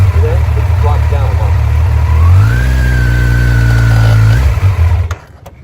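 A motorcycle engine idles loudly up close, then revs up as the bike takes off, the pitch climbing and holding before it cuts back and fades out near the end.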